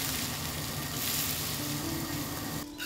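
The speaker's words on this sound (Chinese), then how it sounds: "蛤蟆肉飞水炒到八成熟" Blanched frog meat stir-fries in a hot wok with a loud, dense, continuous sizzle heard up close, followed by a brief scrape near the end.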